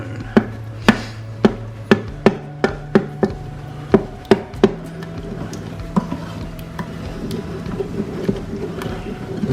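A spoon chopping chickpea and potato chana masala in an Instant Pot, about a dozen sharp metallic knocks in quick rhythm, then scattered fainter taps and stirring, close up with no talking.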